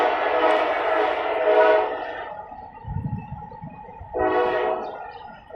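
A train passes with its horn blowing: two long, loud chord blasts separated by a stretch of low rumbling wheels and cars, the horn returning strongly near the end.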